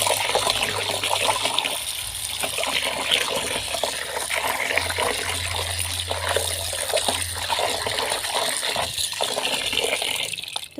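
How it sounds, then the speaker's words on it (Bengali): Fish rinsed under a running kitchen tap: a continuous loud gush of water splashing and trickling over the fish, steady throughout with small shifts as it is handled. "চলো মাছ ধুয়ে নিই।"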